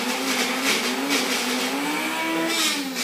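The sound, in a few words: personal blender running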